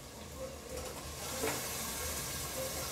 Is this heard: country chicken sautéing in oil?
yes